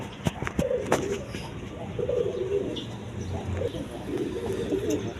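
A pair of Jacobin pigeons, nesting on eggs in a clay pot at a pigeon farm, coo in low repeated bursts close by, with occasional sharp knocks and rustling around them.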